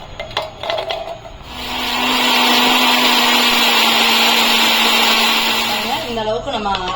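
Mixer grinder whirring steadily as it grinds onions for a crab gravy, a loud continuous motor roar for several seconds, with a voice speaking briefly before and after.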